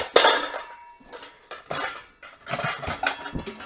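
Bowls and utensils are rummaged through in a kitchen while looking for a medium bowl for banana bread, producing bursts of clattering dishes, scraping and clinking close by, separated by brief pauses.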